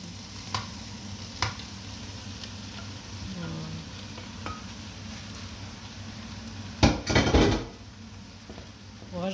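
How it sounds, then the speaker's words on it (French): Chicken added to a pan of softened onions and peppers for rice basquaise and stirred, giving a steady sizzle with clinks of a utensil against the pan and a louder scraping burst near the end. "rajoute la viande et puis on mélange"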